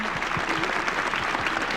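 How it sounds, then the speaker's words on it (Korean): A church congregation breaks into warm applause at a New Year worship service, a thick continuous wash of many clapping hands filling the room, steady and fairly loud with no talk over it. "모든 감사와 영광의 박수 올려드립니다"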